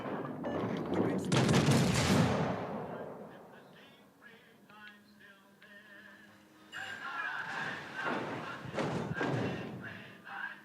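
Warship guns fire in World of Warships: Legends, heavy booming salvos with rolling thuds and crackling blasts, one loud volley at the start and more in the second half, mixed with game sounds and voice.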